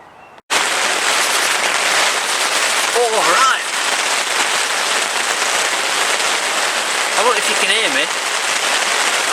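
Hail drums hard and steady on a fishing bivvy beside a private lake, a dense loud clatter filling the shelter, with brief speech passing under it.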